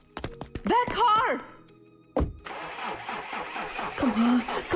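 A car engine cranks and catches in a zombie apocalypse video game, a sharp thunk followed by a steady mid-pitched idle rumble, with a voice shouting excitedly just before it.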